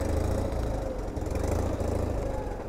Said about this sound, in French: Petit moteur, ça.